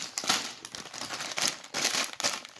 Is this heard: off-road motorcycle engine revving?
no